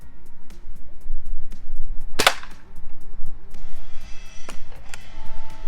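A QB12 4.5 mm, 10-joule air rifle fired at a bottle at close range, one sharp loud crack standing out against a background of steady rhythmic clicking and humming.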